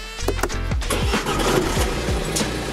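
A car engine cranks with a few rapid turns, then catches and settles into a loud, steady running rumble.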